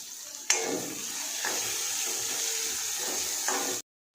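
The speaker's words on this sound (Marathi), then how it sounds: "कांदा तेलामध्ये चांगला फ्राय होऊन द्यायचा" Chopped onion frying in oil in a pan for Malvani fish curry, a steady soft sizzle with a few stirring clatters, close and continuous before cutting off.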